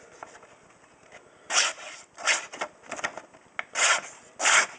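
A knife blade slicing through paper in a sharpness test, heard as a series of short scratchy rasping strokes, five or six distinct swipes close to the microphone with quiet gaps between them.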